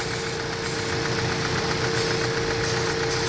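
Steady idle of a Mazda engine with a lean bank 1 fault, a constant close mechanical drone with a faint rhythmic pulse and no speech.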